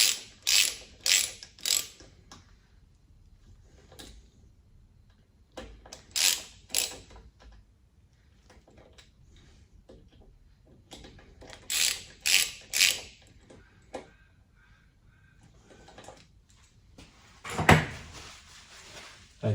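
Ratchet clicking in short repeated bursts while bolts are tightened on a short shifter for an NB-series Mazda MX5 Miata, close up and fairly loud, with quiet pauses between runs of clicks and no talking.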